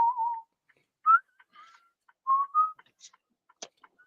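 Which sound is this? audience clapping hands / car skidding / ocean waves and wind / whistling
whistling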